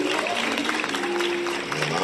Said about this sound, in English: Come on, give yourselves a hand.